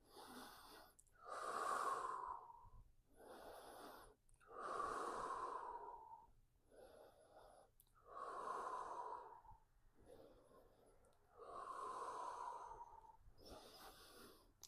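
Deep, slow breathing during a standing hip-flexor twist stretch, about five long inhale-exhale cycles spaced evenly, close and fairly quiet with no talk over it.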